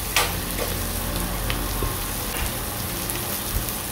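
Red onions sautéing in a pan, a steady close sizzle with a soft crackle, broken by a few light clicks of stirring, with no talking.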